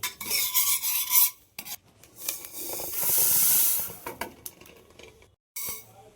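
Mustard seeds and other spices fry in hot oil for an amla pickle, giving hissing, rasping sizzle bursts with stirring scrapes, a loud steady hiss in the middle, then brief quiet and a final burst.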